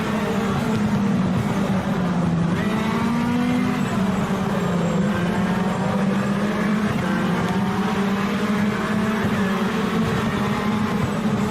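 Moro MR18 race car in rFactor 2, its engine droning steadily and loudly throughout, pitch rising and falling slightly as it accelerates through corners, with no talk.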